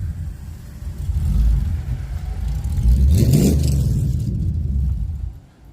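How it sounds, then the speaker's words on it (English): A race car's engine revs and accelerates past fairly close, rising in pitch to a loud whirring peak before fading, with traffic rumble around it. "Boy, this goddamn race car."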